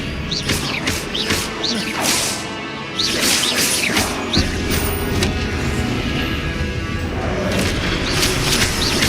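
Spell casts in the Hogwarts Legacy video game come as repeated whooshing swishes and booming impacts, a loud rapid series of magical blasts and cracks over a busy combat background.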